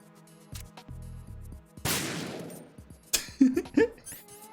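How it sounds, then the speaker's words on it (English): Video game gunfire in Metal Gear Solid 2 cracks in several sharp bursts, with a dense burst in the middle and scattered shots near the end, over game sound effects. "I'm gonna shoot your watermelons now"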